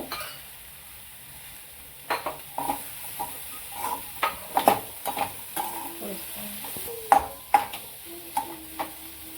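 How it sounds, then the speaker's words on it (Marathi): Radish pods being stir-fried in a pan, a low sizzle under a string of irregular metallic scrapes and clinks as a spatula turns the vegetables, close and fairly lively, with no voice. "मुळ्याच्या शेंगा असतात त्याची भाजी आहे ती आपण परतून घेऊ चांगली"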